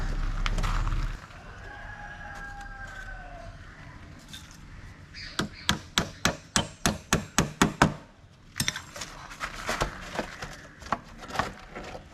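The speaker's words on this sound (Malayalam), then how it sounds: "അപ്പോൾ നമ്മുടെ 45 സെൻറ്റിമീറ്ററിൻ്റെ പീസുകൾ നമുക്ക് ഇതേപോലെ അടിച്ചു കൊടുക്കും" A hammer drives nails into 45 cm wooden pieces for a DIY cat cage, a quick run of about ten sharp, evenly spaced blows followed by a few more irregular strikes, with a voice briefly heard early on.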